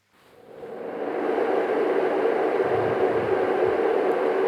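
A Snooz Pro white noise machine fades up into a steady, broad hiss like rushing air, holding constant and fairly loud, with faint low snoring from a recording barely showing underneath.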